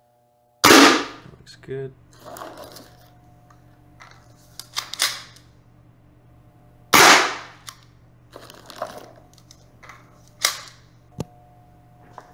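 Silenced PMI tracer mod gun in a game fires sharp, loud shots, two big reports about six seconds apart with smaller clicks and mechanical handling sounds between them, and a short spoken remark.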